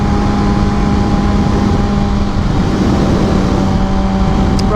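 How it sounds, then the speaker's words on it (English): Steady, loud rush of wind buffeting a helmet while riding a motorcycle at about 63 mph, mixed with a constant engine drone that holds an even level throughout, with no talk. "other than maybe a little bit of wind noise coming from the helmet"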